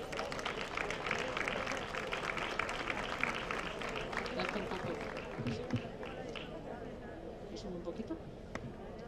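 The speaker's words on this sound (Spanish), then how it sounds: "Pues también un aplauso solicito para ella." Outdoor audience at a park tribute for older people claps in a fairly quiet, scattered round of applause, with some murmuring and thumps mixed in, tapering off over several seconds.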